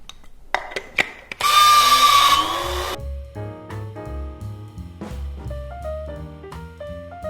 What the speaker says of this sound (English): I'm going to grind these until they're a really fine powder